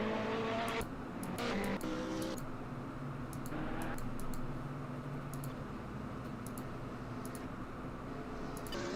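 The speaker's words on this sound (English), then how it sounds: "First car coming around the track at this very moment." A GT3 race car circling the Zandvoort track in a racing video game, its engine a steady mid-level drone with brief gear-change shifts, joined by faint repeated ticking clicks.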